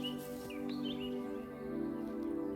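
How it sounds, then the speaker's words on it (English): A song thrush sings in the evening outdoors, giving a few clear, whistled chirps and short phrases over a steady low hum, moderately close and fairly quiet. "tones of a song thrush fill the evening air"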